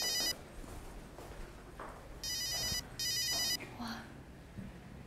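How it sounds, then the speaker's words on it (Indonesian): An electronic telephone ringtone sounds in three short bursts, one at the start and two close together near the middle, each a bright trilling ring over quiet room noise. "kok ada telepon ya?"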